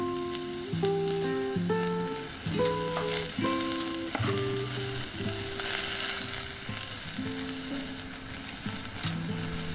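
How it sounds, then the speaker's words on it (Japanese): Shiitake mushrooms sizzle and bubble steadily on a camp grill, a close, continuous frying hiss with dense popping, alone and without talk. "グツグツなってきた。"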